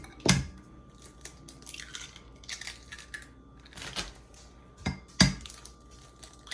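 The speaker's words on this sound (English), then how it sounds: "I am going to crack these 2 eggs here" Two eggs cracked against a hard edge while cooking stuffed shrimp: a few sharp, close crunchy taps spaced a second or so apart, separated by quiet shell-handling rustles.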